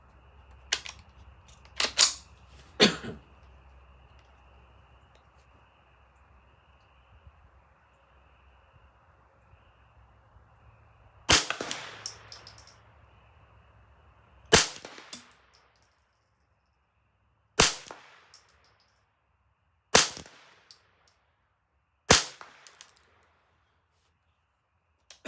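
A Ruger 10/22 rifle fitted with an ATI stock fires Aguila 22 Subsonic rounds at a range, sharp close cracks spaced a few seconds apart, roughly nine shots in all, with no talking between them.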